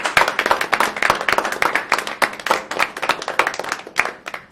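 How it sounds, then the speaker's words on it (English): An audience at a school district board meeting gives a round of applause, close, crisp individual hand claps overlapping in a lively uneven patter that continues throughout. "one more round of applause."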